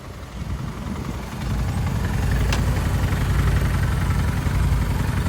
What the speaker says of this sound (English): it's a nice bike coming in.